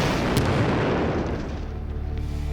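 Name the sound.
explosion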